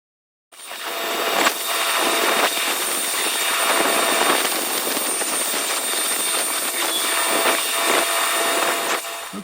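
A John Deere tractor with a loader, carrying massive logs on a slow, steady drive, gives a loud, continuous engine drone that holds steady for about nine seconds, close by and with no voices.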